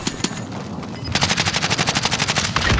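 Gunfire in Call of Duty Modern Warfare, a couple of sharp shots followed by a fast, loud, steady burst of automatic fire, with no talking.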